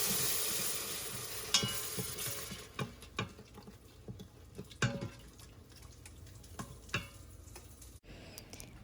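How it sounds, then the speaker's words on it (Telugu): Fried onions being stirred together with coriander, mint and curd while making egg biryani, a soft continuous sizzle and scrape of mixing with sharp spoon taps against the pot now and then, close by, with no talk. "ఇప్పుడు మన ఆనియన్స్లో కొంచెం కొత్తిమీర, పుదీనా అండ్ హాఫ్ కప్ పెరుగు ఇవన్నీ వేసుకుని చక్కగా కలుపుకోండి"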